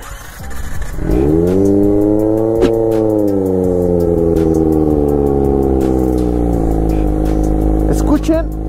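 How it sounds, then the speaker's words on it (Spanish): 250cc motorcycle engine revving hard during an overtake on a road, a loud rising then steady high-pitched drone up close, with wind rush and a brief spoken remark. "Vamos a rebasar aquí. Y vamos a escuchar el sonido de esta moto."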